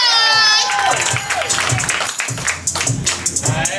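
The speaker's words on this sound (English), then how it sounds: "Give it up for M.I. Clap it up. Clap it up." A live crowd at a poetry performance claps and cheers for the performer M.I., a dense wash of applause and whoops following a voice at the start, with scattered claps carrying on to the end.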